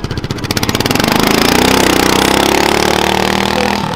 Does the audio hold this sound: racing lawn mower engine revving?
yes